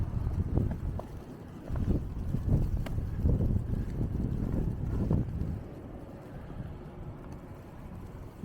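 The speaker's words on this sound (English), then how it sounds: "it's getting windy here." Gusty wind buffets the microphone on a snowy Boston street in winter, low rumbling bursts that swell and fade for several seconds before easing off.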